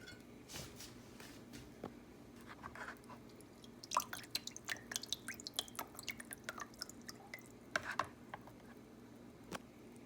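Faint, irregular drips and soft wet ticks as strained dandelion petals are squeezed by hand, the liquid falling in scattered drops over a quiet background hum.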